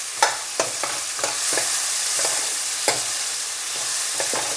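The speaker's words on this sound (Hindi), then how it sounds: "प्याज को हम अच्छी तरह से भूनेंगे।" Chopped onions sizzle steadily in hot ghee in a pan, with sharp clinks and scrapes of a spoon stirring them at irregular intervals.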